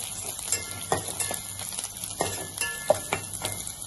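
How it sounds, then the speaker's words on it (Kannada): Curry leaves added to hot oil with browned onions for a carrot and beetroot palya, a faint sizzle under light stirring, with small clinks and scrapes of a spoon against the pan. "ಇವಾಗ ಕರಿಬೇವು ಸೊಪ್ಪು ಸೇರಿಸ್ತಾ ಇದ್ದೀನಿ"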